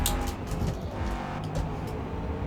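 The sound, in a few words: race car straining at Spa, low on fuel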